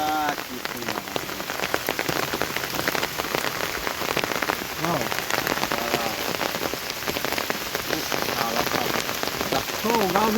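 Rain falls steadily in a Bangladesh village during fishing, a loud continuous patter of drops close by, with faint voices now and then beneath it.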